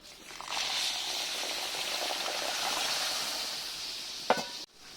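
Water poured into sugar in a cooking pan to make syrup, a soft continuous trickle and hiss lasting a few seconds at close range, ending with a brief clink.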